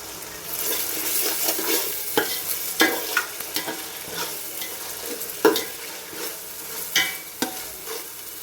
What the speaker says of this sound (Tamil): இஞ்சி பூண்டு பேஸ்ட்டு நல்லா வதங்கி எண்ணெய் பிரிஞ்சு வருது.